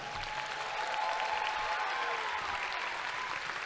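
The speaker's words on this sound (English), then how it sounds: "Let's give them a round of applause." A graduating class is applauded at a 2025 high school commencement: a large crowd clapping steadily and densely for several seconds, loud and continuous with no talking.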